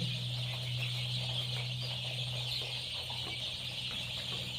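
Turkeys gobble on a poultry farm that also keeps desi and Kadaknath chickens. The rapid, warbling gobbles come across quietly and steadily over a constant low hum, with no talking.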